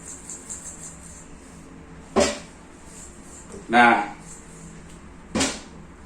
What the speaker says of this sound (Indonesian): kebanyakan reel yang kita miliki ini setelah sekian lama kita pakai itu ketika kita putar itu berbunyi